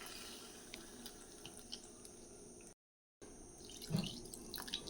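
Water poured into a pan while cooking with cloves and black cumin, a soft, continuous running trickle at low level, briefly cut to silence, then resuming with a few small splashes and drips.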